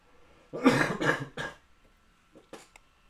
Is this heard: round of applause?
no